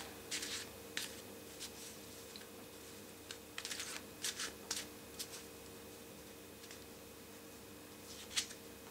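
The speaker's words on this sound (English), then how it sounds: "So when I'm shuffling, I'm focusing on a message for Sagittarius." Tarot cards being shuffled by hand in a quiet room, soft scattered riffles and taps that come in short bursts between pauses, faint and close against a low steady hum.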